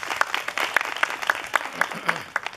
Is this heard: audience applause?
yes